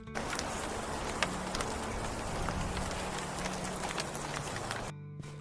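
A cartoon-story storm effect of heavy rain, a dense crackling patter with pulsing beats running steadily, then cutting off abruptly near the end before resuming faintly.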